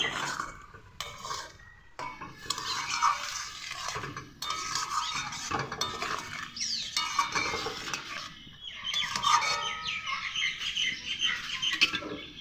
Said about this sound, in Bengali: মশলা ধোয়া জলটাকেও এখানে দিয়ে দেবো। ভালো করে নেড়ে চেড়ে দিব।